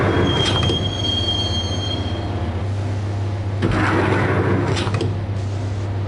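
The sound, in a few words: train riding the rails in the video game Max Payne (PS2)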